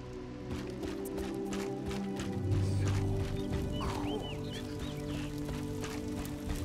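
Horse hooves clip-clop in a fantasy video game (Elder Scrolls Online) while the player rides, a steady run of thuds under game music and ambient hum, moderately loud and continuous throughout.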